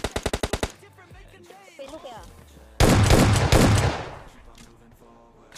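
PUBG Mobile Lite gunfire: a rapid burst of automatic shots at the start, then a loud, dense volley of gunfire partway through, with someone talking excitedly between the bursts.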